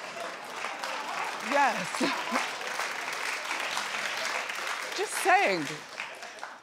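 A studio audience at a daytime talk show gives a subdued, steady clap that runs the whole stretch, with people talking briefly over it and a couple of louder vocal bursts.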